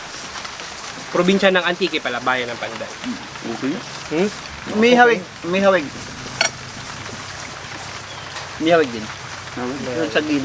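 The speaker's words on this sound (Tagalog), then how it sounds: "kung naririnig nyo man lang na umuulan po ngayon dito sa probinsya ng Pandan" Steady rain falls outdoors in the town of Pandan, Antique province, a soft constant hiss running beneath several people talking back and forth.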